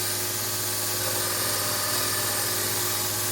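A belt grinder fitted with gator belts runs steadily while cleaning the plunge line of an AEB-L knife blade, giving a continuous high whirring and grinding tone at constant loudness with no talking.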